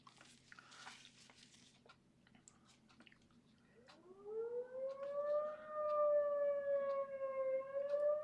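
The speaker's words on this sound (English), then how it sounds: "And again, if you hear a siren in the background," A town noon whistle siren that goes off every Monday winds up and holds a steady, wailing tone, faint and distant, after soft brushing sounds close by.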